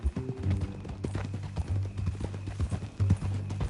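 Horse hooves clip-clop in a steady rhythm over a low droning hum in Red Dead Redemption, fairly close and moderately loud.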